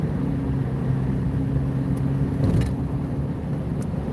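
A car engine hums steadily while driving on a moving day, a continuous low drone with road noise and a few faint clicks, no voices.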